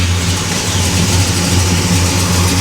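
A hot rod engine runs steadily after starting, a loud, low, throbbing idle with a regular pulsing rhythm close by and no voices.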